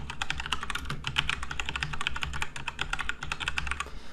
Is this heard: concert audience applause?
no